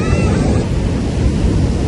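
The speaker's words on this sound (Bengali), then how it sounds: "কালো মেঘ, তার নিচে বড় বড় ঢেউ" Big monsoon surf breaks on the beach at Puri under dark clouds, a loud, close roar of crashing waves with wind buffeting the microphone.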